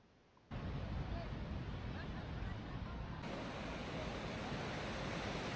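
Ocean surf rolls onto the beach at Puri at sunrise, a steady loud broadband wash of breaking waves that starts abruptly after a quiet moment and continues without pause, with no voices.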